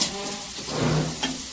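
Onions sauté in a pan for Pallipalayam chicken gravy, giving a steady close sizzle with a soft stirring scrape, heard alone.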